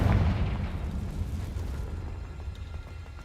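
Confringo explosive spell blast in Hogwarts Legacy on Xbox Series X, a heavy rumbling boom that starts loud and close and decays over a few seconds into a crackling tail.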